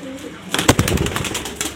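Pigeons in a breeder's loft, kept in pairs with young birds, cooing in a short burst of soft repeated calls, fairly close, with faint voices and rustling beneath.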